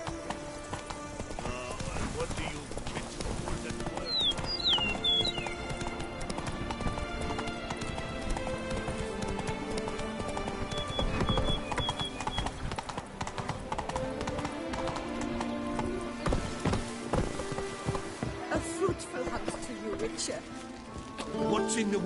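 Roach the horse galloping in The Witcher 3, a quick steady clip-clop of hooves that runs throughout, joined by a brief whinny, with game music and voices talking over it.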